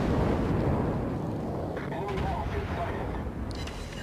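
Heavy naval guns of the battleship Roma booming in World of Warships, a continuous loud, rumbling blast filling the whole stretch with a few faint sharper noises near the end.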